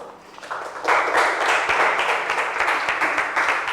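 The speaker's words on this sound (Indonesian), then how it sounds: "Beri aplaus." A classroom audience applauds after a student group's presentation, a steady wash of many hands clapping that swells after a quiet start and holds for several seconds.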